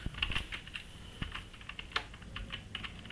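Code is typed on a computer keyboard, quiet irregular key clicks in short bursts with a few louder taps, no talking over it.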